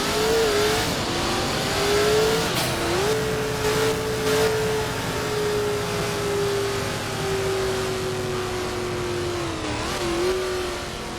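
A car engine in the Roblox game Driving Empire holds a steady, loud drone throughout, with a couple of brief dips and rises in pitch as the throttle shifts, and no one talking.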